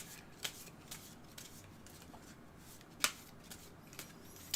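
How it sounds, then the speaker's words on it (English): Monster cards from a tabletop card game being shuffled by hand, soft papery riffling with a few sharper snaps and flicks scattered through, close and quiet with no talking. "I'm just shuffling the monster cards here."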